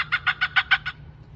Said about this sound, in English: And that's a Cooper's hawk.